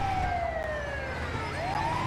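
An ambulance siren in Grand Theft Auto 5 wails loudly and steadily, its pitch sweeping down and then back up over a low rumble of traffic.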